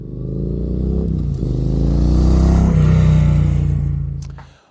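Engine of a cafe racer motorcycle running up close, a loud steady rumble with a clattering mechanical edge that swells slightly in the middle before cutting off abruptly.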